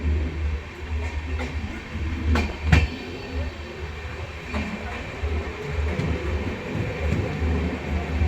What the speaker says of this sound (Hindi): ट्रेन अपनी स्लो हो चुकी है बिल्कुल